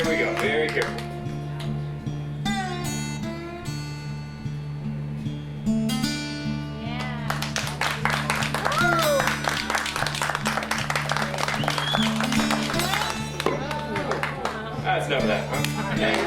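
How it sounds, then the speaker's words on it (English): An audience claps at a live alligator show. The applause swells into a dense, lasting patter over background music and a voice. "Give this guy the applause."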